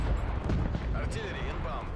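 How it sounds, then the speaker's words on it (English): An artillery strike in the video game Call of Duty Black Ops Cold War booms and rumbles heavily throughout, with game audio and voices mixed over the blasts. "Artillery inbound."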